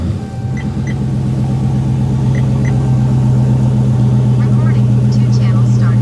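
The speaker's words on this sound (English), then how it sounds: "so let's do a little cold start here" A Dodge Charger Hellcat cold-starts and then holds a loud, deep, steady idle rumble that lasts throughout, with a voice speaking faintly underneath.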